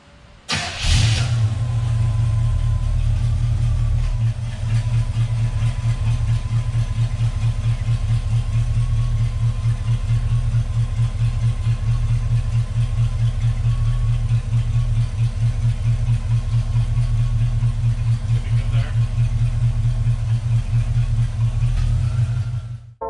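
A car engine catches and then idles steadily inside a workshop while the car is backed up a short way. The low, even rumble is loud and close and runs unbroken with no talk.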